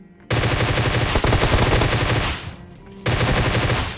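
Rapid automatic gunfire from PUBG Mobile on iPad, loud sustained bursts with a brief lull near the end before another burst resumes.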